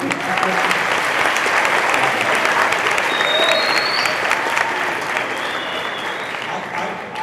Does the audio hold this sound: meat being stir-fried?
no